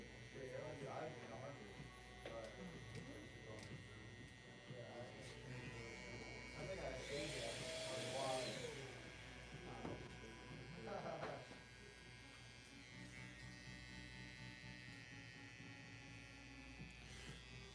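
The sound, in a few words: electric hair trimmer buzzing while cutting hair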